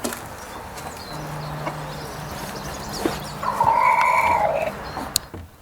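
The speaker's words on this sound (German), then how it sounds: "Derweil führt der Hahn seine Hühner ins Auslaufgehege, wo sie nach Herzenslust scharren und picken können." A rooster and hens in an outdoor run cluck and call, with one louder drawn-out vocalization midway over a low, steady background.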